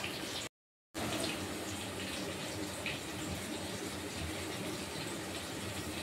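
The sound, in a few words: washing coriander leaves under running tap water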